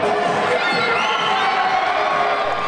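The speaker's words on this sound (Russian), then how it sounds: "Болельщики активно поддерживали спортсменов." Fans at a children's sports competition cheer and shout continuously, a loud, dense crowd roar with high children's voices and whoops, close and unbroken.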